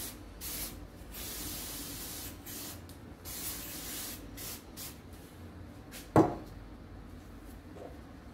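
Brake cleaner sprayed onto hydraulic jack parts during a repair makes a run of steady hissing bursts with brief gaps. A sharp knock cuts in near the end, and no one speaks.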